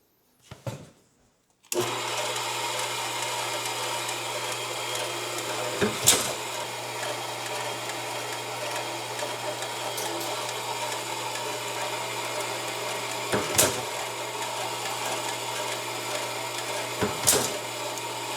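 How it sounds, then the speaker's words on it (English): A machine hums steadily after switching on, punctuated by three or four sharp, isolated metallic stamping thuds spaced several seconds apart as a logo is stamped into a titanium spoon. "I'm going to stamp our logo in it."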